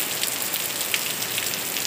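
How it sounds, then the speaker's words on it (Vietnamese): Steady rain pours down on a surface during the rainy season in Vietnam, a dense, even hiss close by with scattered drop patters and no voices. "Mưa tốt quá."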